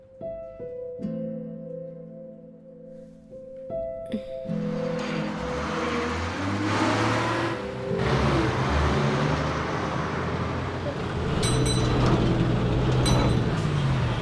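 A bus engine rumbles low and steady as the vehicle pulls in, the drone swelling after a few seconds of soft music and continuing close by with rising road noise.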